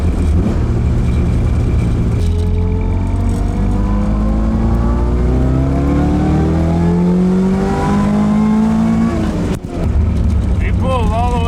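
A rebuilt Toyota AE86 engine revs up in a long, rising pull to high RPM, loud and close with a climbing, strained tone that cuts off abruptly near the top before settling back to idle.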